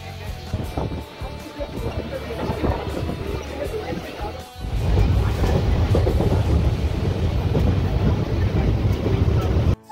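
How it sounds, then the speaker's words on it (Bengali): Continuous rumble of a moving train with rattling and clatter, growing louder and rougher about halfway through, steady to the end. "সুবেশ, আমরা ট্রেনে করে চলে এলাম মহিষাদলের সতীশ সামন্ত হল প্ল্যাটফর্মে।"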